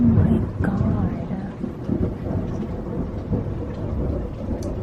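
Thunder rolls through a nighttime thunderstorm as a steady, broad rumble with rain-like hiss that runs the whole time, close and fairly loud, with no talk over it.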